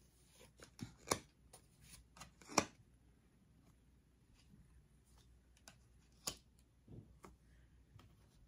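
Tarot cards being handled and shuffled, giving sparse, soft clicks and snaps at irregular intervals with quiet gaps between them, close by and faint.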